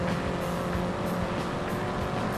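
Race cars in the Indianapolis 500 Evolution video game at Trenton in 1961, with steady loud engine roar and whine filling the whole stretch without a break.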